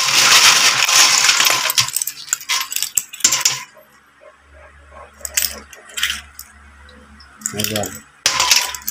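Cleaned nickel brass coins, polished an hour in a tumbling machine, clink and jingle in bursts of metallic rattling, loud at first then in short handfuls separated by quieter gaps with a low hum.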